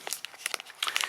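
A single-serving Japanese snack wrapper is torn open, giving about a second of close, sharp crinkling and crackling bursts.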